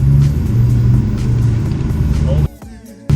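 A 2003 Ford Mustang Cobra Terminator with a freshly installed transmission pulls away, its engine droning loudly and close before cutting off abruptly as the shift begins.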